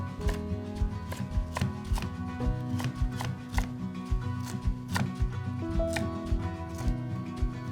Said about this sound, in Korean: 이렇게 해서 이제 고추도 다 썰었어요